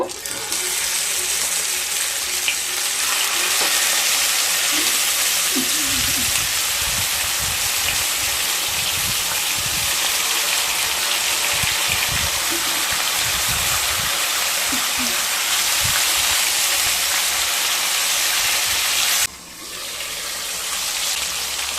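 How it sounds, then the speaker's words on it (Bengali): Rohu fish frying in mustard oil in a wok gives a loud, steady, close sizzling hiss that runs almost without a break, with faint clatter underneath and no one talking. "এবার মাছগুলোকে ভেজে নেব"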